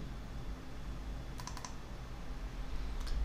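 Computer keyboard Enter key and mouse double click while working in a spreadsheet: a few faint, quick clicks stand out against steady low background hum, with no talking.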